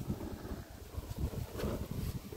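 Cold night wind gusting at a fishing spot, a steady low rumble of wind buffeting the microphone with rising and falling gusts, loud and continuous, with no talking.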